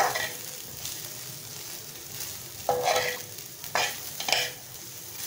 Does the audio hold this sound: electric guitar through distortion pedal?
no